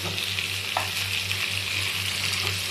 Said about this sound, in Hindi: ये देखिए गैस फुल कर दी गई है, फुल आंच पे प्याज भुना जा रहा है।